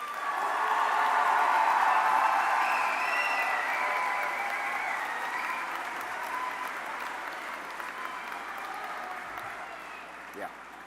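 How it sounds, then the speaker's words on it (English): An audience applauding at a college convocation ceremony, a broad crowd clapping that swells early, then slowly fades over about eleven seconds, with faint voices and scattered cheers beneath it. "let's give yourselves one more big round of applause."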